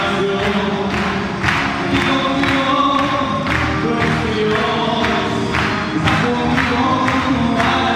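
A crowd of Dominican supporters gathered inside a church, a dense indoor din of many voices with rhythmic thumping or clapping pulses recurring steadily throughout.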